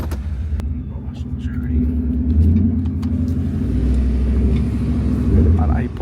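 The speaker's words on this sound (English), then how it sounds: "Fast car right here." A car engine rumbles steadily nearby, swelling slightly as it moves past, with a low throaty drone throughout.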